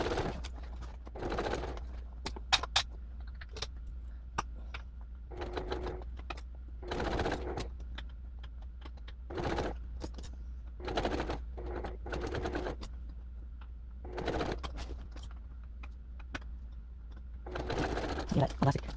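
A sewing machine running in short, separate bursts of rapid stitching between quiet pauses, close by, with a low steady hum beneath and a few clicks and handling sounds.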